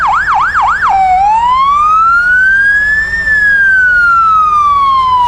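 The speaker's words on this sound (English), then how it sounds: "Sirens are part of the parade." Emergency vehicle sirens in a street parade: a loud, close wail that yelps rapidly a few times, then sweeps slowly up and down, running continuously with no talk.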